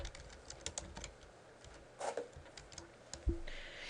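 Someone types on a computer keyboard, a quiet run of light, rapid clicks with a few sharper taps and a brief pause, close and faint with no voices.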